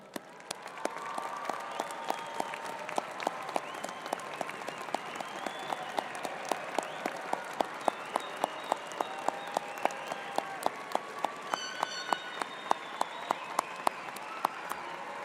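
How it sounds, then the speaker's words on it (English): A university commencement crowd applauds the graduates' families in a large hall, sustained, even clapping with sharp individual claps standing out, moderately distant and continuing for a long stretch. "would the families of today's graduates please stand for a round of applause"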